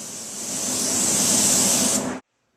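A paint spray gun applying a coat hisses in one continuous, loud burst lasting about two seconds, then cuts off abruptly into silence.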